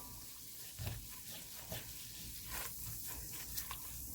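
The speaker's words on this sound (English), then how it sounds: "3 tablespoons of flour. And this is all-purpose flour. And we are going to stir this in" All-purpose flour stirred into a roux in a pan for lobster and shrimp pasta, a soft steady sizzle and scrape running under a few brief louder stirring bumps.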